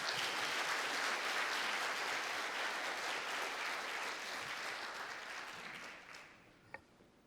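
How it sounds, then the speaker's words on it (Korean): Sustained applause from a church congregation at a pre-dawn prayer service, dense and steady, gradually thinning and fading toward the end with a few last scattered claps. "박수로 큰 박수로 환영하겠습니다."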